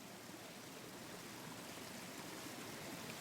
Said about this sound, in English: You hear the sound of falling water, reverberating from somewhere farther down.